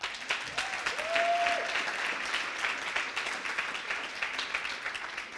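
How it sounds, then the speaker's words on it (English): A demo day crowd at a Montréal coding bootcamp applauds the coders with a steady, moderately distant patter of many hands, with a brief whistle early on. "So just one more round of applause for our coders"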